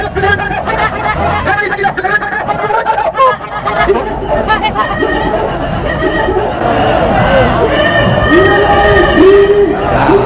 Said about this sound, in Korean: 1호차에서 시민들이 외치는 함성 그리고 2호차에서 시민들이 외치는 함성이 서로 어우러져서